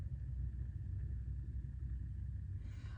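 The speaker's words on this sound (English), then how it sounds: "here comes a loud car, a loud Hummer on a mission" A loud Hummer drives past, its engine a steady, deep rumble that holds throughout at moderate distance, with no talking over it.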